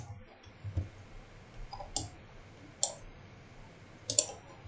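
Soft computer mouse clicks sound sparsely while drafting in SolidWorks, a handful of crisp near clicks spaced a second or so apart over a quiet room background.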